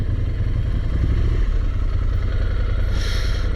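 Engine of a 2017 Ducati Scrambler Desert Sled motorcycle while riding, a loud steady low drone with wind rush and a brief rise in hiss near the end, with no voices.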